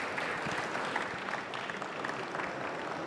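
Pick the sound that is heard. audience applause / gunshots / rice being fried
audience applause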